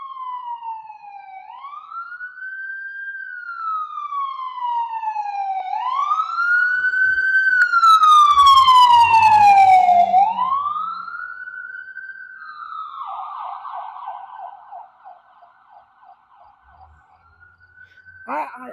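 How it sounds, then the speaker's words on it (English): An ambulance siren sweeps past at night during a storm, wailing up and down in long rising and falling cycles, growing louder as it nears, then switching to a faster yelp as it moves away. "here comes an ambulance"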